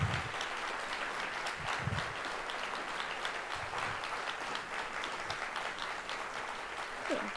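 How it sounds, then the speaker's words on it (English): Audience at an alumni weekend talk event clapping for speakers returning to the stage, a sustained wash of applause at moderate level with scattered individual claps, no voices over it. "please give them a round of applause"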